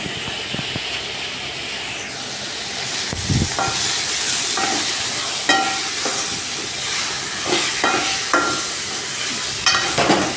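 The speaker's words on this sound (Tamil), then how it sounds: "நல்லா வதங்கினதுக்கப்புறம் தக்காளியும் போட்டு நல்லா வதக்கிக்கோங்க" Onions, fennel and tomato sauté in a pan for a Tamil mutton curry, with a steady loud sizzle and hiss broken by occasional scraping stirs of a spoon, close up and with no talking.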